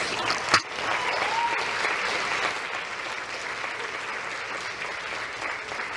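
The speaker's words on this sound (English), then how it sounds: "Good place to clap your hands." Church congregation clapping their hands during a sermon, a sustained wash of applause from a crowd after a sharp initial clap, steady and moderately loud to the end.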